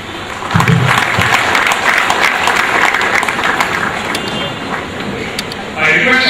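Audience applause at the 6th annual IIIT-B convocation, a graduation ceremony for master's students. The clapping is loud and steady and runs throughout, with crowd noise under it.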